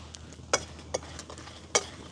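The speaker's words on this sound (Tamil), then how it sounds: "அரை கிலோ உள்ளிக்கு இருபத்தஞ்சி கிராம் மிளகா செத்தல் மிளகாய் அளவில் எடுத்துருக்கிறோம் அதை வறுத்தெடுக்க போகிறோம்" Dried red chillies dry-roasted in a pan with no oil, heard as a few sharp scraping stirs and clinks spaced over a quiet, faintly hissing background.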